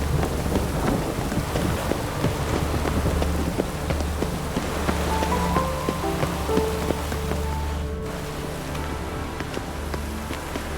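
Rain falling in the video game Witcher 3, a steady patter of drops under faint tonal game music and a low rumble, continuous and moderately quiet throughout with no speech.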